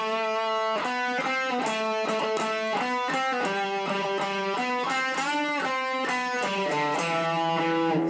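An electric guitar plays the opening phrase of a solo, a clean, loud run of sustained melodic notes in a steady flowing line.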